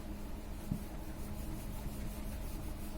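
Pen moving on paper while the given values of a sphere and cylinder problem are written down in a maths lesson, a faint continuous scratching and rubbing under steady background hiss, no talk.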